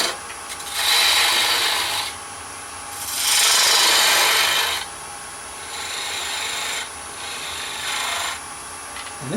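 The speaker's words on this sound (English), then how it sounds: "Now this part I can do with a detail gouge." A detail gouge cuts a turned wooden egg on a lathe. Close-up raspy scraping comes in several sustained passes of a second or two each, with short quieter gaps between them, and no one speaks.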